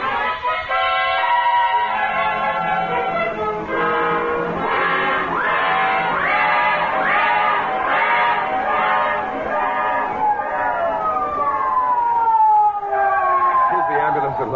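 An ambulance siren sound effect from an old-time radio mystery wails loudly in repeated rising and falling cycles, ending with a long descending tone, with voices speaking over it.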